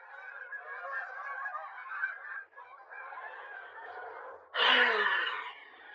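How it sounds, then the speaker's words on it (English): Geese honk loudly and repeatedly in a nasal, overlapping chorus. The calling runs on for several seconds, then a sharper, louder burst of honks comes near the end. No one speaks. "Guys, the geese."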